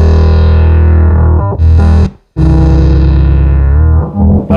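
A bass run through an Electro Harmonix Bass Micro Synthesizer pedal plays two notes in a higher register, giving a loud, buzzy, distorted synth tone that jumps between pitches, with a brief cutout midway, heard alone.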